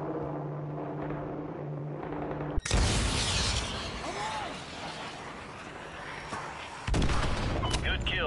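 Gunfire in Call of Duty: Modern Warfare 2, a sudden loud burst of shots and booming impacts after a stretch of radio-style talk, a sustained rattling barrage with another sharp burst near the end.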